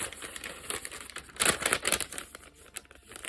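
Freezer paper crinkles and crackles as it is folded over on itself, close-up irregular rustling bursts that peak midway and then taper, with no voices present.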